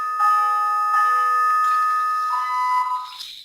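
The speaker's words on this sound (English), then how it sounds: "We're going to have these bells here from the floor." Bells from a cattle market trading floor ring continuously to mark the close, loud sustained tones with several strikes layered over each other.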